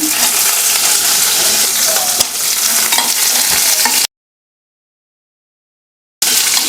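Onions, fenugreek seeds, mustard seeds and a couple of chillies sautéing in a pan for mango kuzhambu, loud close sizzling with stirring clinks, broken by a gap of silence before the frying returns.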